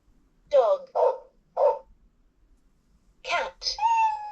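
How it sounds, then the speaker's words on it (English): Recorded dog barks play from a LeapFrog 100 Animals Book toy, a few short close barks in a row and then a pause before two more, over a near-silent background. "dog"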